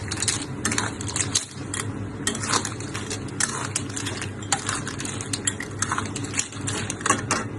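Clams tossed with roasted chili paste in a pan clatter and scrape steadily, with a metal utensil clinking against the pan in quick, busy bursts under a constant frying hiss; no one talks.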